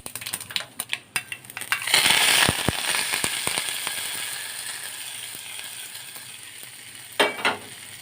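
Mustard seeds, about a quarter teaspoon, hitting hot oil in a pan for a ladies finger (okra) gravy: a few sharp pops, then a loud burst of crackling sizzle that slowly settles into a steady hiss, with a brief flare of spattering near the end.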